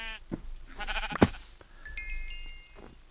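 A Minecraft sheep gives a short, wavering bleat among faint game sounds, with a sharp click and a bright chime-like tone nearby, quiet and without talk.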